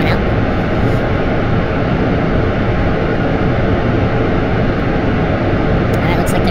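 Rocket engines with solid boosters roar steadily and loudly through a lift-off in Kerbal Space Program, a dense continuous rumble that never lets up.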